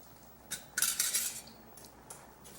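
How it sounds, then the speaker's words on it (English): A spoon stirs a pot of cheeseburger grits, giving one brief burst of metallic scraping and clinking close by, then a few fainter taps, with no talk. "Stir it in there good."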